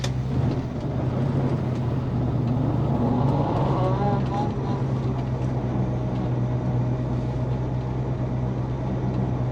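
A 1966 Ford Mustang with a 289 V8 runs in a steady, loud, close engine drone that holds throughout, with a voice faintly over it.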